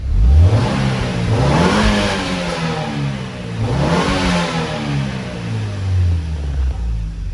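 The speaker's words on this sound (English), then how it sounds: "That sounds pretty good for a V6." A 2008 Saturn Sky convertible with a 2.4-litre four-cylinder and five-speed manual revs hard twice, its engine note climbing and falling back to a steady rumble in between, loud and close with no talking.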